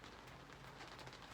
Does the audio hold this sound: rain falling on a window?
yes